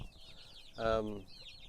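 A laying hen lets out a short clucking call, moderately close, with softer bird chatter around it.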